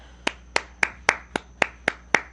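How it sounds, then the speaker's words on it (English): Eight evenly spaced hand claps, a slow sarcastic round of applause from a small group during a casual political talk show, sharp and fairly close with no voices over them. "We should all just clap for you."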